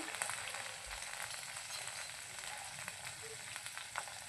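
Oil sizzles steadily in a pan as Bombay duck fish fries, a continuous close hiss with scattered small pops and crackles throughout.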